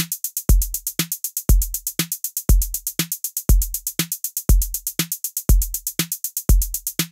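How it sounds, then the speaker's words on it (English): A very basic electronic drum loop with a punchy low kick and a snappy snare, driven by a steady run of bright hi-hat ticks in a tight, repeating pattern, loud and clean. "I made a little just very basic drum loop that sounds like this."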